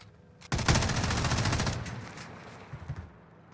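An MG34 machine gun fires a sustained rapid burst in Call of Duty Warzone, loud and close, tapering into a few scattered shots, with no talking.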